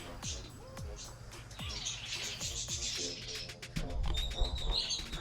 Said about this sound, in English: can you guys hear these birds?